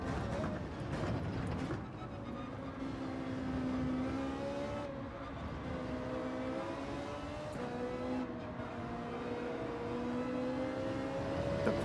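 A Porsche race car engine in Gran Turismo 7 drones steadily at high revs, the pitch rising and falling gently through gear changes, loud and continuous from start to finish.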